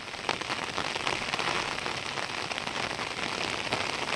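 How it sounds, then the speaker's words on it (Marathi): Heavy monsoon rain pours down across open village countryside near a dam and hills, a dense, steady hiss of drops on surfaces, loud and unbroken with no voices. "खूप मोठ्या प्रमाणामध्ये पाऊस आलेला आहे"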